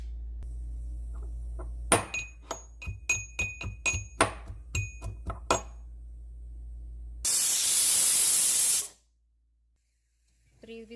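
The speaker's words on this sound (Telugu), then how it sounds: "త్రీ విజిల్స్ వచ్చేసాయి." A pressure cooker cooking toor dal for gongura pappu releases a loud, steady rush of steam for about two seconds. Before it comes a run of sharp, rhythmic knocks, and a quiet gap follows.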